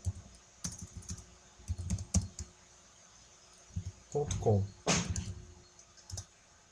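Someone types an email address on a computer keyboard, a quiet scattering of key clicks in short irregular bursts with pauses, close and soft against faint room background.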